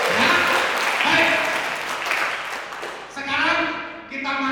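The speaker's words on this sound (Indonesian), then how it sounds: "Tepuk tangan untuk Tuhan" A congregation at a church recollection gathering claps in a broad wash of applause, rising and falling over a few seconds while someone talks over it.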